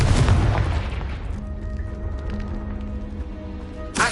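A single heavy booming explosion from the Confringo spell in Hogwarts Legacy, loud at the start and decaying into a rumbling tail with a faint tonal hum, then a short thump at the end.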